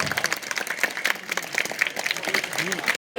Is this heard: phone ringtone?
no